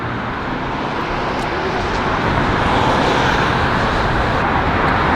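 A 2016 Porsche GT4 sports car with a manual transmission drives past, a loud steady broadband roar of engine and road noise that holds for the whole stretch without letting up.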